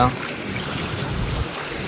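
Steady rushing water from a village stream with a broad noisy wash and some wind buffeting the microphone, continuous and fairly close throughout.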